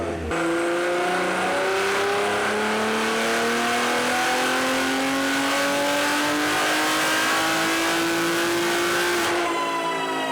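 Turbocharged car engine on a dyno pull at 20 PSI of boost climbs in one long, loud, rising wail through the revs before cutting off sharply at the end.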